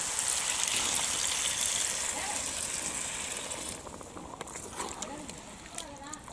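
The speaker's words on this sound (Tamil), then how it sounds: "கொஞ்சம் கிரேவிக்கு தேவையான அளவு தண்ணி சேர்த்துக்கலாம்" Water pours into quail gravy in a pan with a continuous hissing gush that stops partway through, followed by faint sizzling and stirring while a voice speaks.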